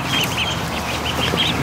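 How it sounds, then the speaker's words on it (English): Muscovy ducks and ducklings in a barn give a steady run of soft peeping and chirping calls, close and continuous, with a low background hum and no talking. "Oh, look at the Muscovies are over here."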